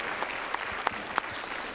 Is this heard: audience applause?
yes